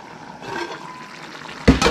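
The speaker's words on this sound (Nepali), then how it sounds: "अब सायद टाइम पनि भयो होला कि म साग पनि हालिदिइहाल्छु ल" Greens dropped into a pot of water on a village cooking fire land with a brief, loud splashing burst near the end, after a low watery background.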